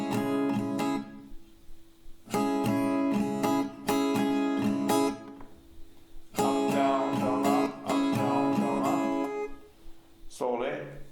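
Acoustic guitar chords strummed in repeated up, down, down, up bursts, loud and close, separated by short pauses, with a brief different sound at the very end.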